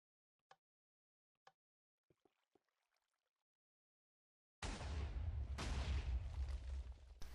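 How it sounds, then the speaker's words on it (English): Cannon fire in the Minecraft video game, heard as a few faint sharp pops followed by a sudden sustained loud roaring blast with a second burst surging on top, no talking. "So with just 2 shots from this cannon"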